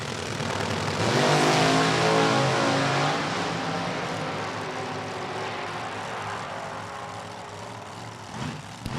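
Spitzer chassis drag race cars idle and rev on a drag racing track at a summer event, a loud continuous engine roar that swells early and then holds steady with a brief blip near the end.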